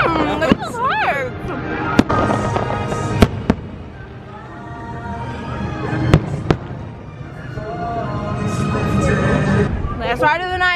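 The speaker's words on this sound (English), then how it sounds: "Last ride of the night while the fireworks are going off." Fireworks burst over Magic Kingdom at Disney World in sharp cracks and booms scattered through the clip, with whistling rising shells, under a continuous babble of crowd talk.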